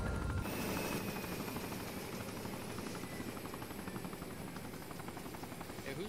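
Helicopter in a video game drones steadily with a rapid rotor chop, close and constant throughout, with no talk over it.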